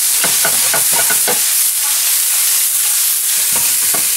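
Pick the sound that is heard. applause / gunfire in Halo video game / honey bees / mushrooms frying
mushrooms frying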